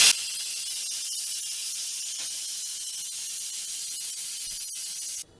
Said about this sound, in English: now I'm just going to release the rest of the steam